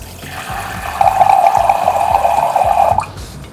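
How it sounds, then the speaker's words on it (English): Water trickles steadily into roughly blended beans for akara, a tiny amount poured in a continuous stream for about two seconds, close and fairly loud over a faint background hum. "So I need just tiny bit of water."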